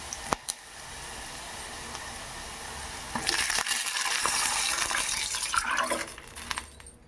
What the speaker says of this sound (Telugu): రెండు గ్లాసులు వాటర్ పోసుకున్నాను.